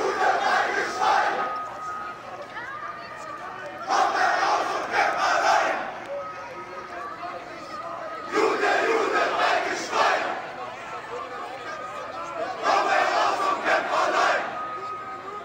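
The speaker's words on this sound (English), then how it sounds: "the crowd shouting, "Jews are pigs," and "Death to the Jews" in the streets of Berlin" Street crowd in Berlin shouts rhythmic chants in four loud, regular bursts a few seconds apart, with quieter crowd noise between each chant, heard from a moderate distance.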